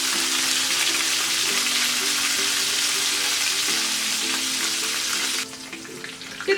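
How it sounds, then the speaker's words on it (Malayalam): Curry leaves sizzle and spit in hot oil for ven pongal, a steady close, loud broadband frying hiss that drops off sharply near the end, with a faint low hum beneath. "ഇനി ലാസ്റ്റ് ഞാൻ ഇതിലേക്ക് ഒരല്പം കറിവേപ്പിലയും കൂടി ചേർത്ത് കൊടുക്കാൻ പോവാണ്."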